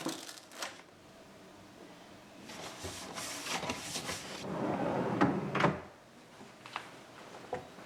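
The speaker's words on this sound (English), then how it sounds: "So those two are going to go in the drawer in the kitchen" A kitchen drawer slides and bumps several times, with irregular scrapes, knocks and rattles of contents over several seconds at close range and no talk.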